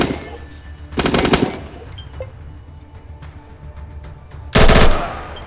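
Automatic firearm fired in bursts in the post-apocalyptic RPG ATOM RPG: two loud, sharp bursts of rapid shots separated by several seconds of low ambient hum, the second burst slightly longer.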